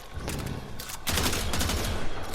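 Tiberon Prime rifle firing in Warframe, rapid loud bursts of shots in a dense rattling volley that sharpens and intensifies after a brief pause, close and continuous.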